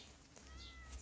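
A single short meow from a cat in the game Stardew Valley, quiet and brief, over low background hum.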